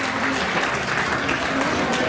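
Audience applause for the young women contestants at a local event, a short burst of steady clapping from a crowd in a hall.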